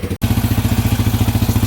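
A Yamaha Warrior motorcycle engine idles after its first start attempt, a steady low pulsing chug with a brief cut near the start before the rhythm resumes, loud and close.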